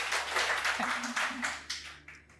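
An audience at a self-realization talk by a psychiatrist claps together: a dense, fairly close patter of hands that slowly thins out, with a voice speaking over the applause.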